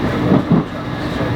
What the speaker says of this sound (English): I've not been on a Blackpool tram in 20 years at least.